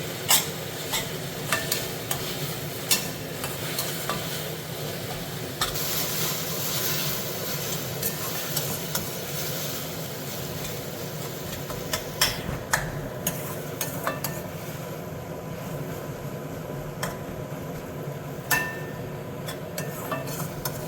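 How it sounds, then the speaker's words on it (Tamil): Ginger garlic paste being sautéed in a pan for a spicy Tamil chicken gravy, giving a steady close sizzle with stirring scrapes and occasional sharp clicks throughout. "இந்த இஞ்சி பூண்டோட ரா ஸ்மெல் போகிற வரைக்கும் வதக்கிக்கலாம்."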